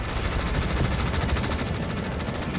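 Artillery and gunfire rumble and crackle continuously in the EndWar video game, a dense steady barrage of shots and blasts with no pauses.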